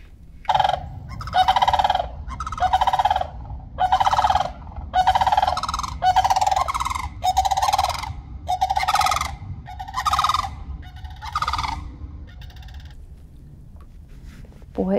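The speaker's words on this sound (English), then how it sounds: "Those cranes." Cranes call in a series of loud, repeated rattling bugles from nearby, about ten bursts in a row that fade out toward the end, heard outdoors during a fishing outing.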